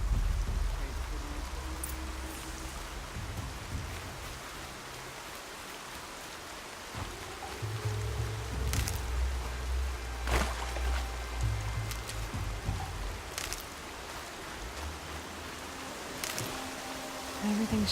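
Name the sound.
rain falling in video game Horizon Zero Dawn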